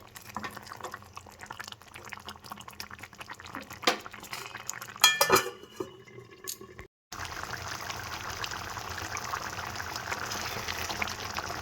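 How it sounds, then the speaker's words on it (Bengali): Mango and jaggery simmer in a pan over a medium gas flame, a soft steady bubbling with a few utensil clinks against the pan midway, then a brief cut and a denser, louder bubbling hiss to the end. "এবার আমি গ্যাসের আঁচটা মিডিয়ামে রেখে আম গুড়টা ফুটিয়ে নেব"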